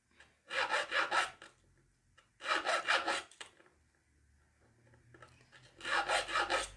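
A needle file rasping the inner edge of a wedding ring to round the angle, three bursts of quick back-and-forth scraping strokes separated by pauses, close and fairly quiet.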